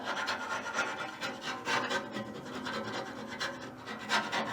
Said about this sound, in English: I'll scrape that a little bit.